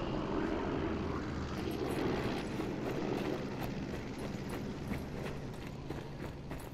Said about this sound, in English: Still got that plane, so that's nice.